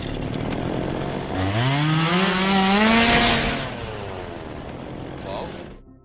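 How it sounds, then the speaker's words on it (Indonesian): A chainsaw revs loudly up close, its engine pitch climbing and holding in a high snarl before dropping back, as a woman grabs it to fight zombies, with background noise and voices mixed in. "Ia kemudian melihat sebuah gergaji mesin di dekatnya, dan Clara langsung mengambilnya untuk melawan para zombie."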